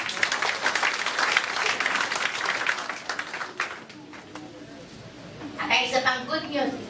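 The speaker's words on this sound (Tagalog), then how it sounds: "Pumalakpak yan sa Panginoon." A church congregation at a Tagalog-English service bursts into brisk applause that fades after about four seconds, followed by quieter talk and a brief swell of voices.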